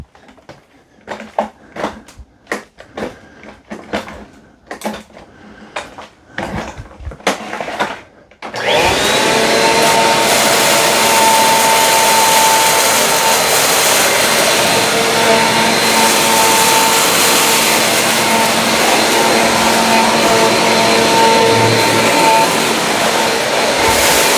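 A Bissell CleanView Compact Turbo vacuum cleaner on its hardwood floor setting starts after a few clicks and handling knocks, then runs as a loud, steady, close whine and roar with no speech.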